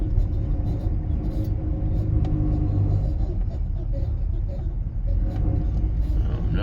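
A parked flatbed truck idles nearby, giving off a steady, close, low engine rumble that holds fairly even throughout.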